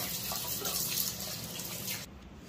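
Water runs from a tap for rinsing and washing, a faint steady splashing flow for about two seconds before it eases off.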